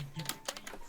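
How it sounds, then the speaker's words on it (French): Computer keyboard keys tapped in a quick, irregular burst, close and fairly crisp, during a Naruto UHC Minecraft game session. "Il y a des bruits de clavier."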